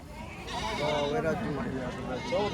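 A pregnant goat at a goat market bleats in wavering calls, close by, with people talking over and around the cries.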